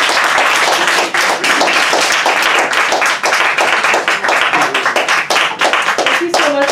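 Dense, sustained audience applause after a book reading at an author event, a loud continuous wash of many hands clapping with faint voices underneath.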